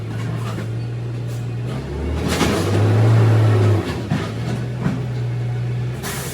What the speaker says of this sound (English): Got the big old garbage truck coming.